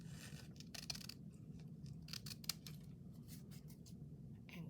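Scissors snip through index cards to trim them to size, giving a series of crisp, close cuts in an uneven rhythm over a faint background hiss.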